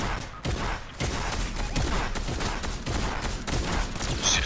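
Rapid gunfire from an enemy player in a battle royale shooter, dense crackling shots in quick bursts that continue almost without pause, loud and close.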